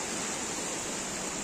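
Mountain stream rushing over slippery rocks near a waterfall at Kalapahar, Manipur, giving a dense, continuous hiss of flowing water with no pauses, steady and close.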